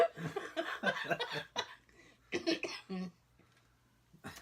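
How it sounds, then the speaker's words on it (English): A person coughs several times in quick bursts, with throat clearing and a few short sounds, close and fairly quiet, ending in silence. "I've been coughing all day."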